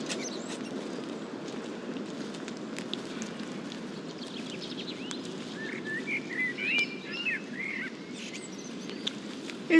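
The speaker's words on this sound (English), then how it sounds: "I can hear the bird song." Faint, scattered birdsong chirps drift in from a distance over a steady low background hum, growing a little busier toward the end of a quiet, peaceful outdoor moment.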